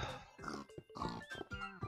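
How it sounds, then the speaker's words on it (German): Pigs grunting and oinking in the Minecraft video game, a quick run of several nasal grunts close together, clear and up front with no speech over them. "Oh, jetzt stört ihr Schweinchen hier."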